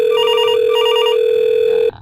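A VoIP desk phone on a FreePBX server, extension 102, rings with a loud electronic trill in two repeating bursts over a steady tone, alone with no talk, cutting off near the end.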